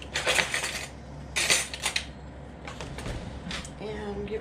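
Spoon scraping and clinking against a pot of ground cherry mixture, short metallic bursts in an uneven rhythm, close and fairly quiet.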